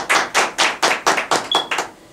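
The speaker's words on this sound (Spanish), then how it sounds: "Del licenciado Cristian, también un fuerte aplauso," A small audience at a cultural talk claps for a licenciado in a few slow, distinct, evenly spaced bursts, sharp and fairly close, fading out after about seven beats.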